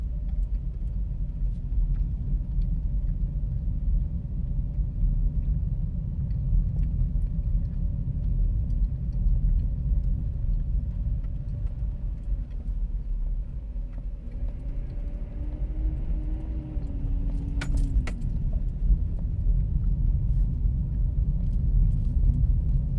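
Steady low road rumble of a car driving along a Texas road, a continuous engine and tire drone with a brief higher whine partway through and no talk.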